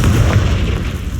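A deep, heavy boom from the Confringo blasting spell in Hogwarts Legacy rolls out loud and close, a sustained low rumble with no talk over it.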